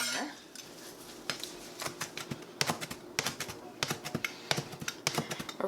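A knife taps rapidly on a cutting board while chopping a pile of fresh oregano leaves finer, producing irregular sharp clicks that quicken into a steady rhythm, close and fairly quiet.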